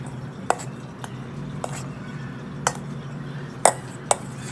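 Flour is sifted together with dried fruit for a carrot cake, a steady soft rustle punctuated by about six sharp metallic clinks and taps from the sieve at irregular intervals, close up with no speech.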